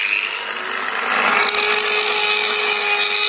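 A power tool cuts off a piece of wood, giving a loud, continuous rasping buzz close by that grows a little stronger midway and holds steady with no talk.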